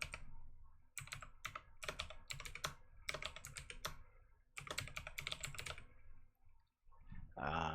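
Rapid bursts of keystrokes clatter on a computer keyboard, close and crisp, in irregular runs separated by short pauses, with no talking.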